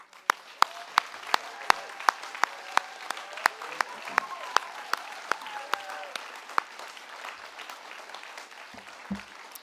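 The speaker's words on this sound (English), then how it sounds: "So a combined round of applause for SOA, but also the wonderful people that make this happen as well." An audience at a writers' awards ceremony gives a warm round of applause, steady clapping that fills the room for several seconds with a few sharper claps standing out before it thins away.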